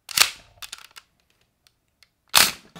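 Kamen Rider Kuuga CSM Pegasus bow toy firing its electronic shooting effect, a sharp crack followed by a few short clicks, then a second sharp burst near the end, close and alone.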